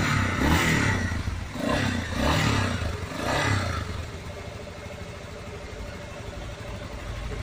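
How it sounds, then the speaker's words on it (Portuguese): Close-up, a 2019 Yamaha Lander XTZ250 motorcycle engine revs in three rising blips with a mechanical clatter, then settles into a steady, even idle. "O barulhinho do motor aí,"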